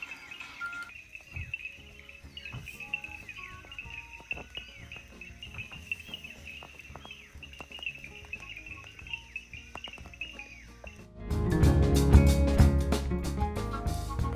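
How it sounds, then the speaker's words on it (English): Painted reed frogs call at dusk in Botswana, a dense chorus of short, high, evenly repeated clicks and chirps at moderate distance, with a louder rustling burst near the end. "We watched the sun go down, listening to the painted reed frogs."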